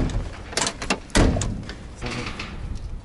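The door of a worn, used Lada Niva comes off with a run of metallic clunks and rattles, then a heavy thud, followed by softer knocks close by.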